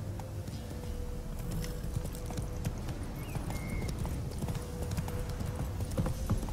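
Rapid clip-clop of horse hooves trotting at a steady rhythm in The Witcher 3: Wild Hunt, fairly quiet, with soft background ambience and occasional faint tonal blips.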